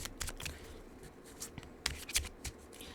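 A deck of tarot cards is riffled and shuffled by hand, producing a string of quick, close papery flicks and snaps at uneven intervals, quiet and alone.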